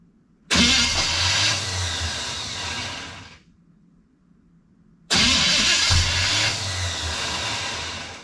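A 1974 Pontiac Ventura's engine cranks loudly for about three seconds, stops, then cranks again, the starter catching on a bad spot on the flywheel without the engine firing.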